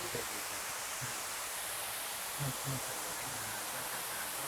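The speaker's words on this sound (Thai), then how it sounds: "เป็นหน้าผาน้ำตกเลยนะครับ" A waterfall spills over a cliff at a cave park by a temple, making a steady, broad rushing hiss that fills the background, with faint low murmurs beneath.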